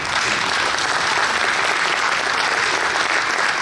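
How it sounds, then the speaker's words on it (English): Steady, dense applause from a sizable crowd at a talk on archival preservation, clapping continuously and loudly without pause. "Give them an applause."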